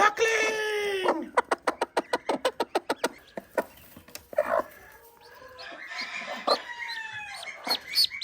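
A hen with a newly hatched duckling in a backyard chicken coop, a quick rhythmic series of high peeping chirps followed by scattered clucks and cheeps, close by.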